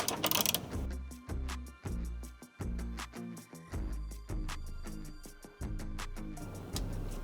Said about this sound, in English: switch to a 10mm socket and get these three 10mm bolts in the back